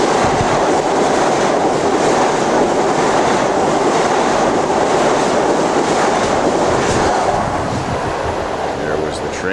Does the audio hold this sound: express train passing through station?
yes